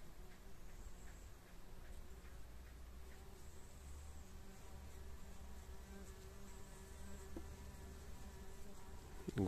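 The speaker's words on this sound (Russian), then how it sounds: "Видите, пчелки летают." Bees buzz steadily around raspberry bushes in a low, continuous drone, several insects hovering nearby, fairly quiet with no voices.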